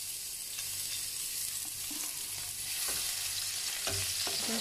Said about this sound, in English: I already put my oil, so I'm just going to put a little bit of onion.